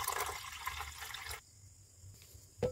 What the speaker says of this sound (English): So we add distilled water.